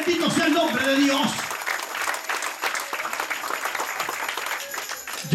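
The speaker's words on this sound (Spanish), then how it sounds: "Den ese aplauso fuerte al Señor en esta hora" A church congregation at a night vigil applauding, a loud burst of clapping with voices and cheering over it, settling into steady applause.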